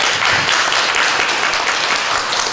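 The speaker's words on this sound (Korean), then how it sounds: "박수 부탁드립니다" Sustained applause from a church congregation honoring a home church teacher, dense and steady throughout with no talking.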